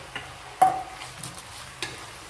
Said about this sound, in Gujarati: ડુંગળીને આપણે સાતરી લેવાની છે